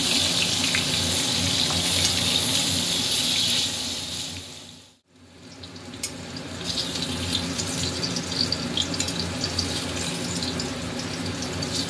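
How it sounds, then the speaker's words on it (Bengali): Eggplant pieces frying in oil tempered with black cumin seeds, a steady loud sizzle that briefly cuts out and then resumes, with no voices. "বেগুনটা ভাজা ভাজা করে দিতে হবে।"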